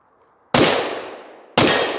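Two sharp handgun shots during concealed-carry target training, fired about a second apart, each a loud crack with a long decaying ring, with quiet before the first.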